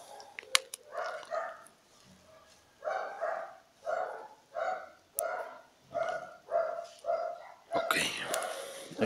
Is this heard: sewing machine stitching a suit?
no